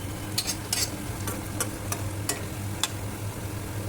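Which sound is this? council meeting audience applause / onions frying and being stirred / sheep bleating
onions frying and being stirred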